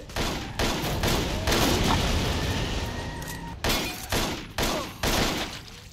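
Gunfire rattles from a gun in the video game Total Overdose, loud bursts of rapid shots with crashing impacts, broken by short pauses near the end, and no talk over it.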